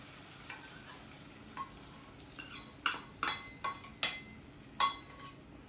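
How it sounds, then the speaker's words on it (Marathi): Thick gravy goes into a pan of soya chilli on the stove, with a soft steady sizzle under a series of sharp metallic clinks and scrapes from a spoon against the pan, growing more frequent toward the end. "तर ही ग्रेव्ही आता आपण याच्यामध्ये ॲड करायची आहे."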